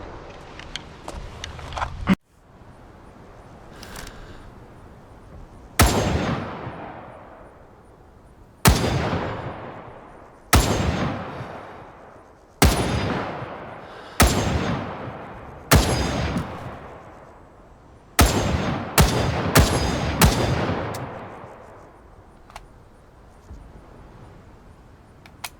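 A heavy gun fires about ten loud single shots at irregular intervals, each a sharp blast trailing into a long echoing decay, with no talk over them.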